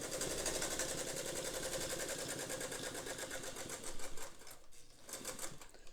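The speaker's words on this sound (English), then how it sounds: "I'm going to try to maybe sew a row a little faster." A vintage sewing machine stitches a row, its rapid needle clatter running steady and close for the whole stretch, with a brief dip and a slightly uneven patch near the end as the pace shifts.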